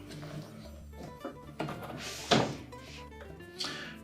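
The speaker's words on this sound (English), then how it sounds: "we'll just lower that door." A Frigidaire washer's exterior door panel is lowered into place during repair, giving a few soft knocks and bumps followed by one louder thunk midway, heard close up with no talk.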